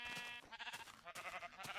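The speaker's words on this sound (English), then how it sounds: "Hello, sheep." Two short sheep bleats from Minecraft Beta 1.7.3, close and clear, with a brief gap between them.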